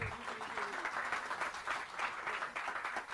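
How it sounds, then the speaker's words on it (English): Audience applause at a financial reporting workshop in Pune, steady dense clapping from a seated crowd for about three seconds, moderately loud throughout with no speech over it. "First of all, big round of applause"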